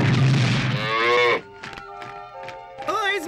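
A cartoon cow lets out one long, loud moo that fills the first second and a half, followed by lighter tonal cartoon sounds and effects.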